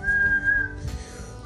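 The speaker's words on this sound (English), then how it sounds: "I heard a whistle in there." A child whistles one clear, sustained note at close range for most of a second, then it breaks off into soft breathy noise and small movement sounds, with no talking.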